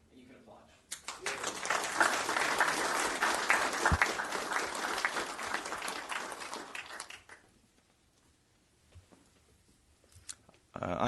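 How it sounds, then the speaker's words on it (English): An audience at a city council meeting applauds steadily for about six seconds, a dense even clatter of clapping that fades out into quiet room noise. "And you can applaud."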